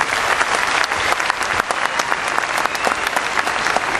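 Audience applause after a hymn sung by East Turkestani girls at a community program, a dense, steady wash of many hands clapping that keeps up without pause from start to finish.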